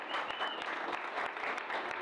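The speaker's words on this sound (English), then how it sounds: "be rewarded by the sound of people clapping and cheering for" Audience applause with clapping and cheering after a performance, a dense, steady wash of many hands clapping at even loudness throughout, with no speech over it.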